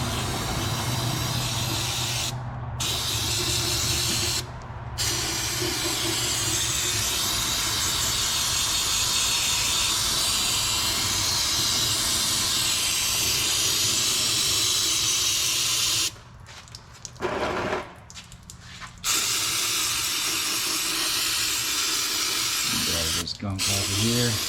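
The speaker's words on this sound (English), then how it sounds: "Come back in here with some brake clean." A can of brake cleaner hisses in long, loud continuous sprays while the rear differential of a Ford Explorer is cleaned out, broken by a few short pauses and a longer gap near the end.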